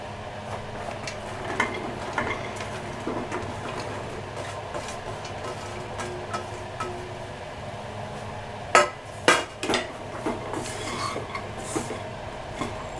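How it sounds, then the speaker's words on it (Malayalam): Chopped okra is stirred and tossed in a hot oiled pan, giving a soft steady sizzle with scattered scraping clicks of a spoon and a few louder knocks near the end. "നന്നായി ഇളക്കി കൊടുക്കുക."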